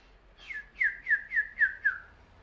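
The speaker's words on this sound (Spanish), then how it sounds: "Escucha los pajarritos." Six quick, bright chirping bird calls in the Euro Truck Simulator 2 driving game, evenly spaced and fairly close, over a quiet low background hum.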